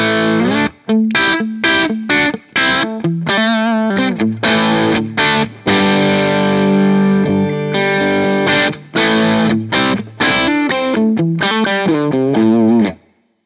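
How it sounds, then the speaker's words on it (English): A Vigier GV Wood guitar with amber humbucking pickups, played through a British Copper TB30 amp in the Vox AC30 Top Boost style, rings out in distorted, chorus-tinged chords and riffs, loud and close, with brief pauses between phrases. "Here I have my Vigier GV Wood with amber humbucking pickups."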